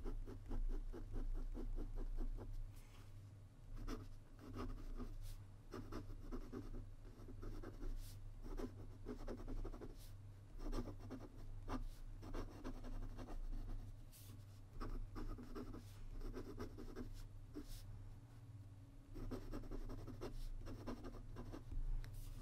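A Pilot Custom 845 fountain pen with a medium nib writes quickly on paper, giving close, soft, continuous scratching with rhythmic stroke accents over a low background hum.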